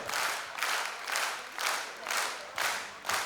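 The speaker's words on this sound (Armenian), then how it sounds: "Եվս մեկ անգամ բարձր ծափարենք Վարդանին, էլ ավելի բարձր։" An audience applauds dancer Vardan Qaloyan at a dance performance, steady crowd clapping that rises and falls in regular waves, with a faint voice underneath.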